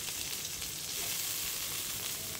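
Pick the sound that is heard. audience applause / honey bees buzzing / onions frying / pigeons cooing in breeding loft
onions frying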